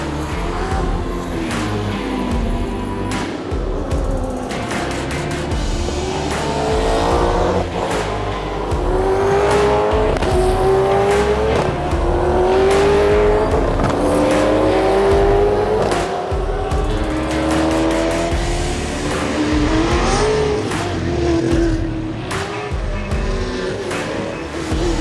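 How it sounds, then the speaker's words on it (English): Supercars racing at an Adelaide motorsport event, a continuous loud roar of engines revving and climbing through gears as cars pass, steady and close throughout with overlapping engine notes. "The beloved supercars are out now."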